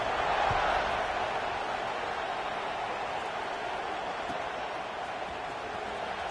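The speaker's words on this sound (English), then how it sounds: "this crowd is buzzing after that last score" Steady, dense crowd buzz fills a college football video game stadium, Florida State against Florida, a broad continuous roar holding level throughout with commentary voices over it.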